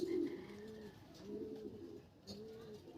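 A racing pigeon hen arrives at its loft, giving repeated soft low coos in three short bursts, close by with light outdoor background noise.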